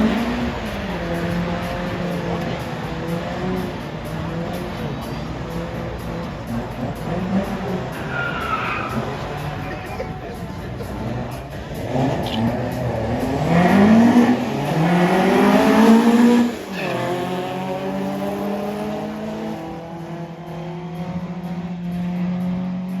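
A Ford Escort ST170 Mk1 launches down a drag strip, its engine note climbing loud and close through rising revs with tyre squeal, then shifting gear and carrying on into a steady, slightly fading pull.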